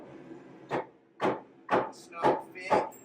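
Hammer strikes during a kitchen cabinet install: five sharp, evenly spaced taps about half a second apart, close and fairly loud over a low room hum, with no talk in between.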